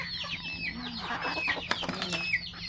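Silkie chickens cluck and chirp in a home garden, with several close, overlapping calls and a faint, steady low hum underneath.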